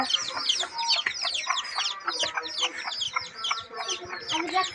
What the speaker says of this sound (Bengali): আমার মুরগির বাচ্চা দেখাইতেছি